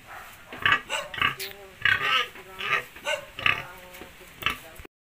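A sow on a small pig farm gives repeated close grunts in an uneven rhythm of short bursts, with low murmuring around them.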